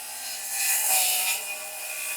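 A power saw blade set just deep enough cuts through rotten RV floor wood above styrofoam, a continuous close, loud whining buzz that swells midway and eases off, with no talking.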